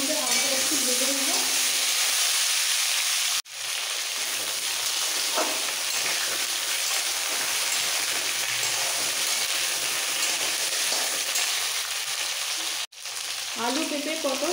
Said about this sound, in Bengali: আগে তেলের মধ্যে হালকা একটু ভেজে নেব।